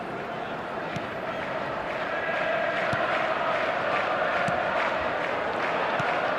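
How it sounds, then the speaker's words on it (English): Steady, loud stadium crowd noise in an eFootball match between Chelsea and Ipswich, a continuous roar with scattered sharp accents, swelling slightly midway and holding at full volume. "Certainly gave this crowd something to really cheer about."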